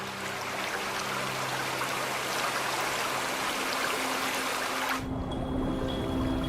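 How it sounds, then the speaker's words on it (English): Torrential rain pours over the Danube delta wetlands, a dense, steady hiss of water falling without a break, close and loud throughout, with no voices. "The downpour can be torrential."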